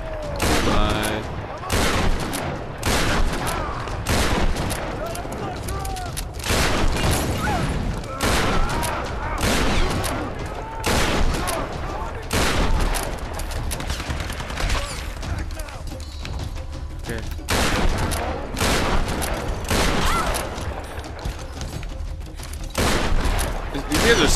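Rapid gunfire from Tomb Raider rattles in dense, repeated bursts throughout, loud and close, mixed with game clatter and someone talking over it.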